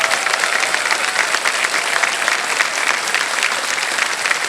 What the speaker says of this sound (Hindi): जल्दी से तालियां बज जाए इनके लिए।